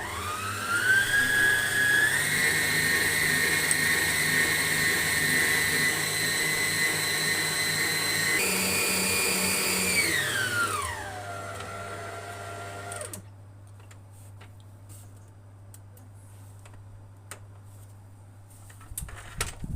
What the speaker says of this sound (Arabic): هننزل تاني وارجع اخفق كويس